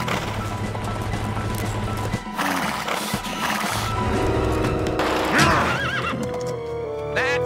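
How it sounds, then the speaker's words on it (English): An animated horse neighs repeatedly over galloping clip-clop hoofbeats, loud and close, with several rising whinnies and music underneath. "Brave Herculean horse, Volnos, you can do it!"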